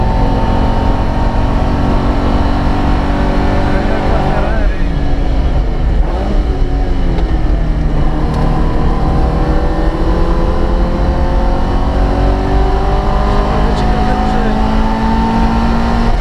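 A Ferrari race car in a racing video game roars close by at high speed, its loud engine note rising and falling through gear changes, with voices talking over it throughout.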